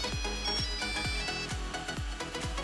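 A Nokia 3310 plays its ringtone while the phone melts under a heat gun, a tinny electronic melody over a loud, rhythmic low thumping pulse that repeats steadily throughout.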